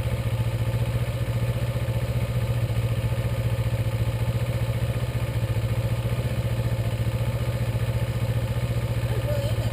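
Kawasaki Ninja motorcycle engine running steadily near at a low idle as the clutch is eased out to creep forward, a constant low droning hum with light mechanical clatter and no change in pace.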